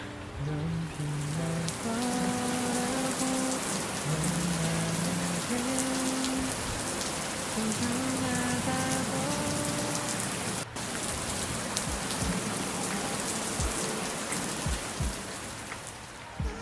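Steady rain falls as a sound effect in an Indonesian radio drama, a continuous even patter over soft tonal music, with a single sharp drop-like tick midway and no speech.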